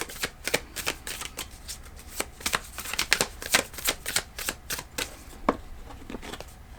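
Tarot cards being shuffled by hand, a quick run of crisp, close riffling slaps in an uneven rhythm, heard alone without talk.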